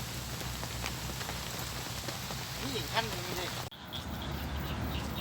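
Steady rain pours down outdoors at a rural fishing spot, a dense, even patter throughout, with a voice briefly heard partway through.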